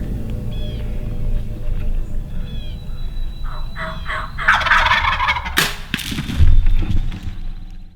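A wild turkey gobbles in the open woods during a spring hunt, a rattling burst rising midway through the clip amid crackling brush and outdoor background noise, with no talking.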